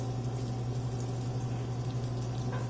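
Potato gnocchi browning with shallots and chopped garlic in a hot pan, giving a steady, close sizzle and bubbling hiss with no talking.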